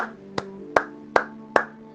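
A church congregation claps in a steady, slow rhythm, five sharp hand claps spaced evenly over a sustained organ-like musical tone, with no talking.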